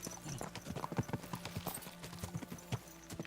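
Rapid rhythmic hoofbeats of a horse galloping in Kingdom Come Deliverance II, a steady clip-clop drumming close by over faint ambient background.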